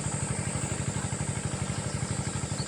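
A motorcycle engine idles close by with a fast, even, thumping beat that stays steady throughout.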